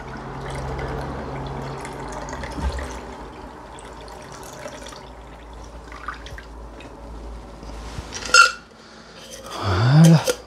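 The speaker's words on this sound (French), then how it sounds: "Vous venez l'ouvrir, passoire à glace, et vous venez filtrer tout dans votre verre." A gimlet cocktail is strained through an ice strainer into a glass: soft liquid trickling and dripping, with a brief splash near the end and a louder pour-and-fill gurgle closing it out.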